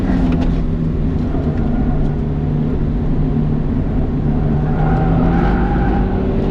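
A car lapping fast on a race track, its engine droning loudly and continuously close by with tire noise and skidding mixed into the steady roar.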